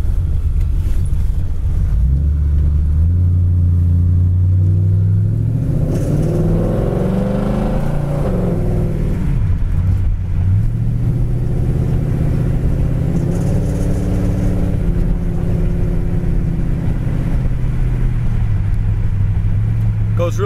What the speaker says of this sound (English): Goes really nice down the road.